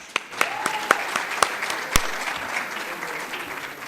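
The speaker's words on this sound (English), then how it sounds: "Let's clap for Oman." Audience clapping for Oman at the closing session of a youth commitments conference: sparse, scattered claps with a few sharp loud ones standing out, thinning toward the end over a light room hum.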